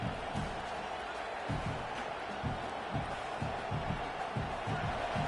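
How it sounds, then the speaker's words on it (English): A stadium crowd at a football game roars in a constant dense wash, with rhythmic low thumps like stomping running beneath it. "Wow, listen to this crowd noise."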